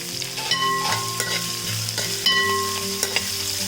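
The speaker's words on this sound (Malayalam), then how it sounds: "ഈ സവാള ഇട്ടിട്ട് വഴറ്റി കൊടുക്കാം." Three sliced onions sauté over a high flame in a pan, giving a steady close sizzle broken by a few sharp stirring clatters, with a faint tonal ringing running underneath.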